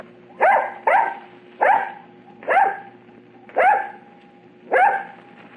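Bozo the dog barking on stage, six distinct sharp barks spaced about a second apart, loud and close, with no talk between them.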